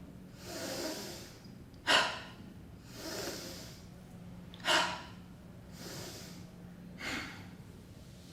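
Slow exhales during a guided breathing exercise, three soft airy breaths at steady intervals, each followed by a sharper nasal puff, close and quiet over a low hum.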